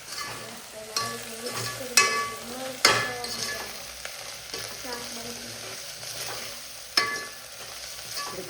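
Chillies and turmeric being stirred in oil in a home kitchen pan for okra curry: a steady sizzle with scraping spoon strokes and several sharp clinks against the pan.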